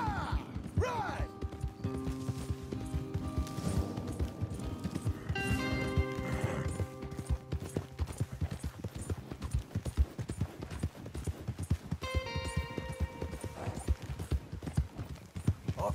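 Horses clop and gallop steadily throughout in Red Dead Redemption II, hooves thudding under a busy music-and-effects bed, with a horse whinnying once or twice.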